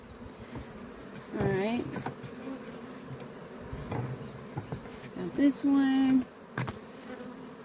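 Bees from a swarm buzz while being moved into a permanent hive box, their drone rising in loud bursts as individual bees fly close past, with a person speaking briefly between them.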